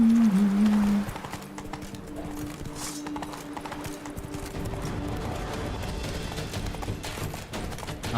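Horse hooves clip-clopping at a steady pace in The Witcher 3: Blood and Wine, a continuous rhythmic trot beneath a faint game music bed, with a short voice near the start.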